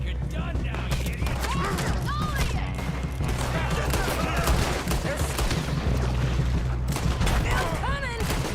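Gunfire in the video game Red Dead Redemption 2, rapid repeated shots crackling over a constant din, with a voice talking over parts of it.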